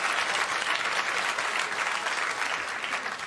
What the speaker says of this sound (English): Thank you for your applause.